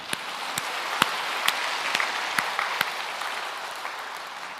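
A Korean church congregation at a revival meeting breaks into loud, sustained applause, a dense, even roar of many hands with a few sharp standout claps, filling the whole stretch without speech.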